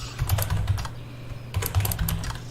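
Rapid computer keyboard typing in two quick bursts, close and clear, with key clicks over a low steady hum.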